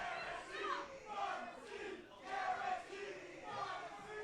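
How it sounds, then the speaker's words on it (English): Wrestling crowd at a live pro wrestling show chanting in rhythmic waves, moderately distant and even, a few phrased chants rising and falling. "You hear the crowd chanting"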